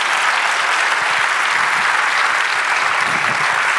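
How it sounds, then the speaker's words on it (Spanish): A church congregation claps in a loud, even, continuous wash of applause during a sermon, with no talking over it. "Dale un aplauso, Señor."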